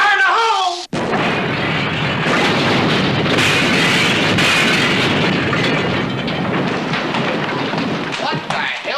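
Fire-in-the-hole blast: a short shout, then a sudden loud boom swells into a sustained, roaring rumble lasting several seconds before tapering slightly at the end.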